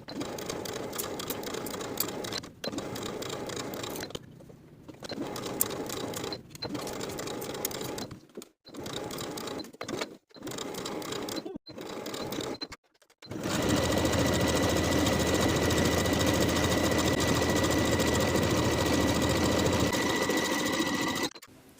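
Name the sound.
sewing machine stitching bodice pieces together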